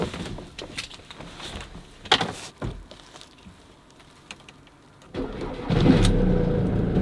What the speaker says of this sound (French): je vais faire tourner le moteur pour mon bien-être personnel